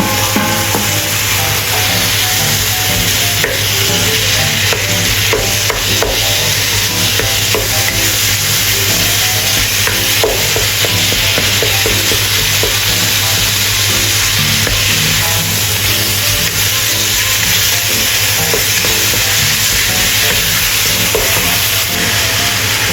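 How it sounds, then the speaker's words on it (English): Minced meat is stir-fried in a wok with a loud, continuous sizzle and hiss. Scraping stirs run throughout the full stretch without a break. "Add minced meat, stir-fry until turned white."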